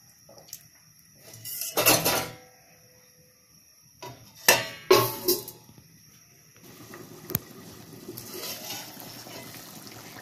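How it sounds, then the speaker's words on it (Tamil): A ladle scrapes and clanks inside a pot of karunai kizhangu tamarind curry in a few close, sharp bursts of metal contact, separated by quieter stretches. "கருணக்கிழங்கும் போட்டு நல்லா கிண்டி விடுங்க."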